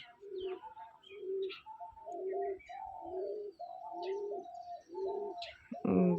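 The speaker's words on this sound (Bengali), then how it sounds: "ঘুঘুর ডাকটা আমার অসম্ভব ভাল লাগে।" Repeated soft, low cooing calls of a dove at dawn before sunrise in a steady rhythm, fairly close, with a few faint chirps from other birds in the background.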